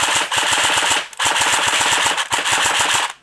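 An Echo1 Red Star AK47 airsoft rifle, stock, firing in semi-automatic mode: three rapid bursts of sharp, closely spaced cracks, each lasting about a second with brief gaps between, loud and close with no talking.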